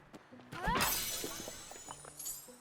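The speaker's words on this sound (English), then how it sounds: "That's me smashing things apart when there's literally a button to do it." Sea shards are smashed apart in the game Windbound, a single loud shattering crash with ringing glassy debris that fades out, followed by a few faint clinks, with someone talking quietly.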